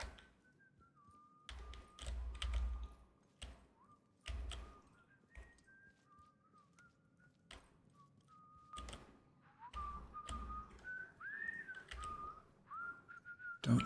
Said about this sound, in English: He's whistling.